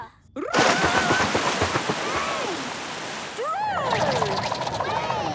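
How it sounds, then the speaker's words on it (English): A cartoon rain and thunder effect gives a continuous hiss of downpour, with animated voices exclaiming loudly over it throughout. "Thunder! Roar! Rain!"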